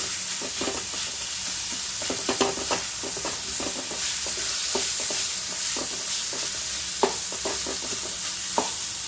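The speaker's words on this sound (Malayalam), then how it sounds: "ഇനി ഇതെല്ലാം കൂടെ നന്നായിട്ട് നമുക്കൊന്ന് മൂപ്പിച്ചെടുക്കാം" Tomato sautés with a fish curry base in a pan, giving a continuous sizzle broken by repeated stirring clinks and scrapes and a few sharp knocks. The sound is close and there is no talking.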